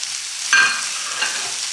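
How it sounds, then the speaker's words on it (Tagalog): Onion and garlic, with ginger, sautéing in hot cooking oil in a pan for a blue crab stew, a steady sizzle that jumps in loudness as food hits the oil, then continues evenly with light stirring scrapes. "So, igigisa ko lang ito hanggang sa lumambot na yung sibuyas."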